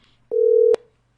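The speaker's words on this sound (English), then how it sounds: "I am hearing the phone ringing, but it's just saying connecting" Telephone tone heard while a call tries to connect over Wi-Fi: one steady, loud electronic beep lasting under half a second, with a click at its start and end, then silence.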